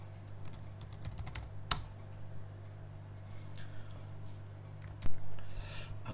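Keys clatter on a computer keyboard while Java code is typed, steady soft clicks close by over a low constant hum, with one sharper tap near the middle and a louder clack near the end.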